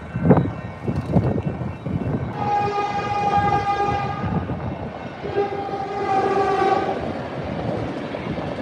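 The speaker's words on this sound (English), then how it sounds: "So here comes the train. Maybe it's an express train." An express train roars past close by in downtown Burlingame without stopping, its horn sounding in two long blasts over the rushing rumble of the wheels.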